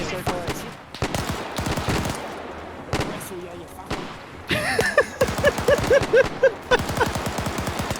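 Gunfire from soldiers shooting in Arma 3 during an emu battle, rapid bursts of sharp cracks that thicken into dense automatic fire toward the end, with people talking over it.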